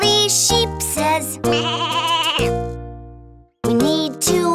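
A cartoon sheep from a children's nursery-rhyme song gives several loud, drawn-out, wavering bleats in quick succession. The bleats are separated by a brief silence and may be a sung imitation by a voice.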